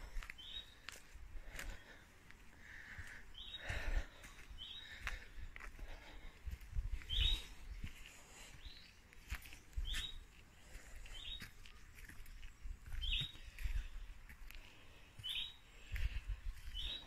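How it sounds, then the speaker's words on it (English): Birds chirp and call intermittently in a quiet forest in Gowan Valley, short tweets scattered throughout with occasional rustling and footsteps nearby. "Can hear the birds."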